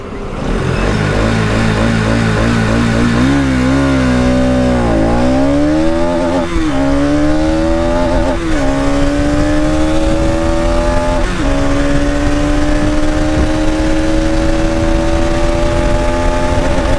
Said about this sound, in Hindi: इस बाइक को पहले लॉन्च करते हैं और 0 to 100 देखते हैं